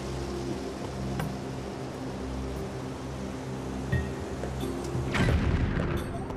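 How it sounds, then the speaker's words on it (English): Bomb blast in Zelda: Skyward Sword, a dull boom erupting late over a steady low game-world hum, followed by a brief rumbling tail. "Maybe I've got to roll a bomb all the way over there."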